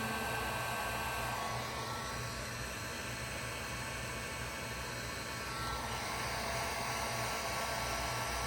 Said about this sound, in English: Get a heat gun on this.